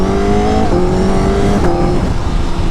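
A rare motorcycle not sold in America revs loudly and close, its engine note sustained and rising slightly at moments, with no talk.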